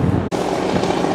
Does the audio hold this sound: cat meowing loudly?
no